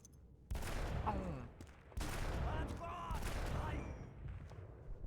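Gunfire bursts from a shooter video game crack out in loud, sharp onsets, with excited talking running over and between the shots.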